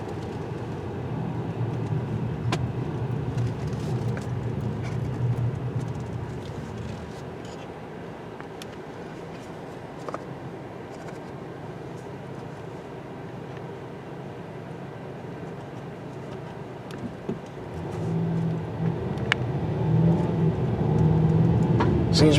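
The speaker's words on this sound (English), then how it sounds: "let's do some dark, dingy street driving" A 2023 Ford Maverick Tremor pickup truck's engine rumbles steadily while driving along a dark street, a low continuous drone with road noise that swells louder toward the end.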